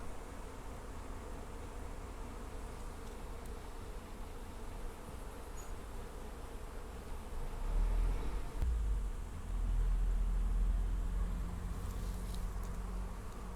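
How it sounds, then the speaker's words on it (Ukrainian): Young, fluffy honey bees buzz around an apiary hive on their orientation flight, making a continuous soft drone of many insects, with a deeper rumble near the end. "Це обліт молодої бджілки."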